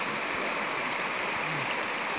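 The Lukulo River in Kebumen rushes and babbles steadily nearby, a loud, continuous wash of flowing water with no voices.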